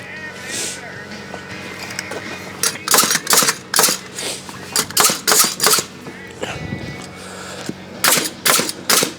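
A pneumatic air nailer drives nails into sheet flooring laid over joists on an Australian carpentry job, firing loud, sharp, close reports in quick irregular clusters over a busy site background.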